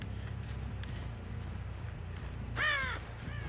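A single loud crow caw in Dead by Daylight cuts through a low rumbling ambient backdrop, one harsh nearby call near the end of the stretch.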